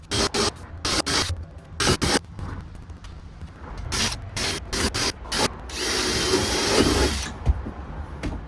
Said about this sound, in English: I cannot believe I just drilled all those holes into my work